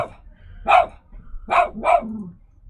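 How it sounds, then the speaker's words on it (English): A poodle barks three times in quick succession, sharp and fairly close, with short pauses between barks and no talking. "silence, poodle. There you go, you get some free barking."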